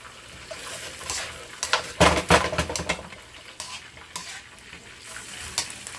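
Broccoli stir-frying in a pan with stir-fry sauce, a steady sizzle broken by scraping stirs that build to a louder clattering burst midway, then settle back to a soft fry.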